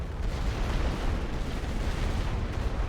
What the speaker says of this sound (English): Artillery took it out.